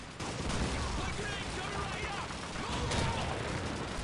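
Call of Duty 2 battlefield gunfire, a dense steady crackle of rifle and machine-gun shots mixed near and far with mechanical clatter, a voice talking over it.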